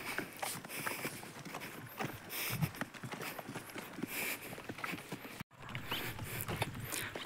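Bullocks walk to water with soft, irregular hoof clops on the ground, several uneven steps and faint rustles, fairly quiet and close, with no talking.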